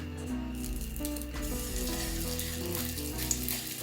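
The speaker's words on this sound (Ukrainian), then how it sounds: "Відразу буду викладати їх на сковорідку." Steady oily sizzling and crackling of buckwheat patties frying in sunflower oil in a pan, continuous and close, with faint scrapes and clinks.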